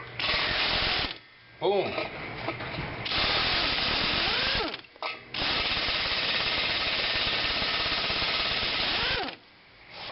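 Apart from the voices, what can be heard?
air ratchet extracting a seized bolt with a socket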